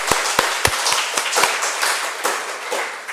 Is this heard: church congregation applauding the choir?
yes